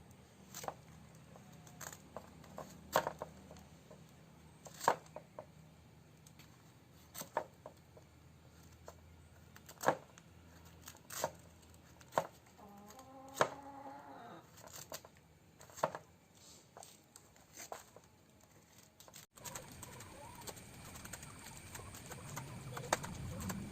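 A knife works through a ripe wild jackfruit (hebbalasu), giving a run of separate sharp cuts and soft thuds at an uneven pace, close and quiet against a still room, with no voices.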